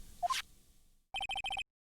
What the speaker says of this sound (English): What is this stupid sounding ringtone?